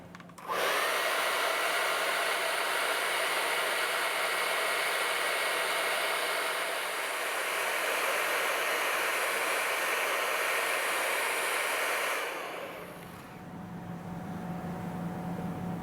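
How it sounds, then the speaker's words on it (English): Hairdryer blowing hot air onto the double kidney grille of a BMW iX xDrive50 electric SUV, a steady loud broadband whoosh lasting about twelve seconds before it cuts off, leaving a quieter hum. "use a hairdryer on the car on the double kidney"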